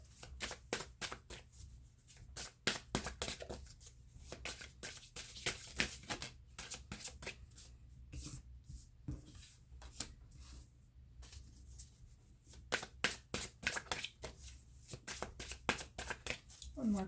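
An oracle card deck is shuffled by hand with steady, crisp riffling and slapping of cards close to the mic. The shuffling runs continuously with brief pauses.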